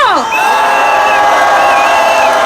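A large outdoor protest rally crowd on a snowy, freezing night cheers and whoops loudly, with high shouting voices and whistle-like calls layered in a dense, sustained roar.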